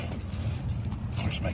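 Car keys jangle close up beside a 1966 Chevy Chevelle SS with a blueprint motor, brief metallic rattles over a low engine rumble, with a voice talking.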